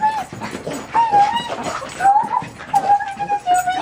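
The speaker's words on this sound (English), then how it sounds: "Hi, puppies." Puppies whimper and yip in a series of short, high, wavering cries over a few seconds, close by, with bits of a person's voice mixed in.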